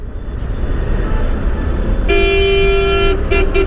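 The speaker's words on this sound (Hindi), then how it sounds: "भाई इधर कितना ट्रैफिक है," Heavy road traffic rumbles steadily while a car horn blares in a long sustained honk, then a few shorter toots follow near the end, loud and close.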